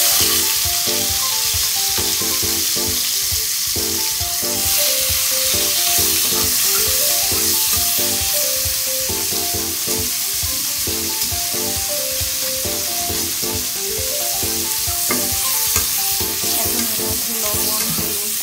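Chopped onion hitting hot oil with whole cumin seeds in a Bengali kitchen, a steady close sizzle and crackle running unbroken for the whole stretch with no voices.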